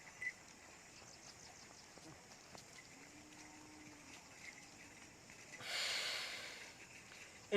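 A breathing exercise: a single long, rasping inhalation drawn in through a tightened throat, a rushing hiss rising and fading after a quiet stretch, with a sharp click at the very end.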